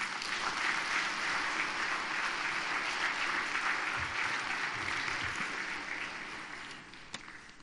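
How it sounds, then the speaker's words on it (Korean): A church congregation gives sustained, dense applause to welcome a preacher, the clapping loud and even before gradually thinning toward the end. "우리 전사님 나올 때 박수로 환영하겠습니다"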